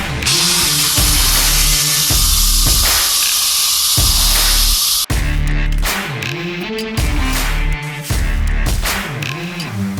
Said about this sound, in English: We're going to let all the pressure out of the pressure cooker. A bunch of steam comes out.